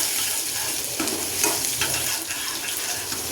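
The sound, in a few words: cumin, asafoetida and crushed garlic frying and being stirred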